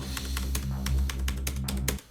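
Hard, rapid keystrokes hammer a computer keyboard during a driving video game, a close, loud burst of irregular clacks lasting about two seconds before stopping abruptly.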